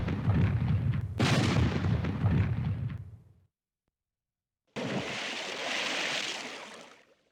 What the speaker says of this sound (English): It played a firing sound effect twice, as if you were firing 2 shots.